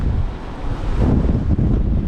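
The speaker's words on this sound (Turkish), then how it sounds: "Bildiğin fırtına abi." Strong gusty storm wind blasts the microphone beside a caravan at the seashore, swelling louder halfway through, with a low roar of rough sea water underneath.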